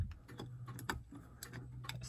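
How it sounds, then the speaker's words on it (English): A camera flash unit clicks in quick, irregular, close-up ticks, faint and dry, with a low steady hum underneath. "That's the flash where you hear clicking."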